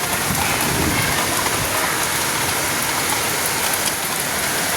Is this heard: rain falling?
yes